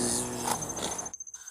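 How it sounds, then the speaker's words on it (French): Flies buzz steadily in a house cellar, a close, sustained insect drone with thin high whine that cuts off abruptly near the end, leaving faint scratchy flutters. "Entendre les mouches?"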